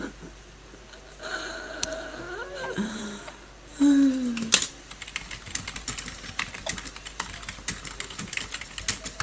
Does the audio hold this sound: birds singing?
no